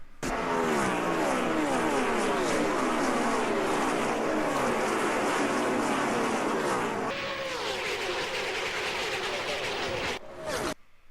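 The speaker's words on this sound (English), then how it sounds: "Does the car sound the same now that you're over on this coast?" A NASCAR race car engine roars loudly and steadily, its pitch sweeping as it passes and shifts, then cuts off abruptly near the end.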